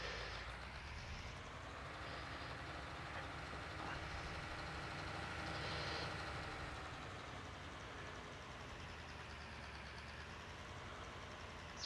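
A farm truck engine in Farming Simulator 19 runs with a steady, loud, broadband rumble for about twelve seconds, swelling slightly midway, with no talk over it.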